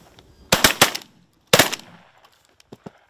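Shotguns fire on an early-season goose hunt in North Dakota, in two loud close bursts of rapid overlapping shots about a second apart, followed by a few fainter pops.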